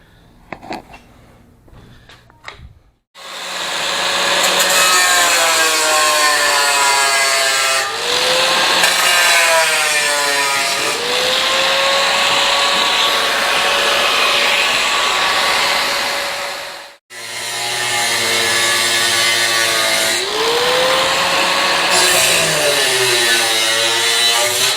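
A power cutter slices through the steel floorpan lip edge of a 1974.5 MGB, whining loudly in long steady bursts with brief pitch dips as it bites, pausing once midway before resuming.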